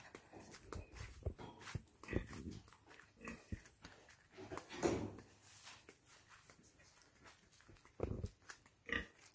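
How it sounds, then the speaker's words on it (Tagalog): A startled pig on a rural Philippine farm gives scattered short grunts and snorts, mixed with shuffling and footstep-like thumps, all fairly faint and uneven over the stretch. "Gulat yung baboy."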